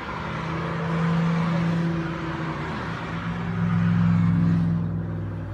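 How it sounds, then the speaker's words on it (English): A car overtaking another on a road, engine rumble swelling as the first vehicle approaches and passes, dipping, then a second louder pass building near the end, heard from the roadside with no talk. "there's a car passing a car on this road, which is dangerous"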